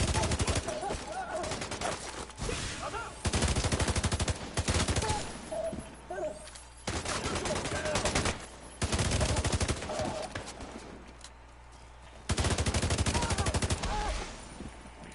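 Rapid bursts of automatic gunfire in The Division 2, loud and close, come in repeated volleys separated by short pauses, with occasional speech mixed under the shooting.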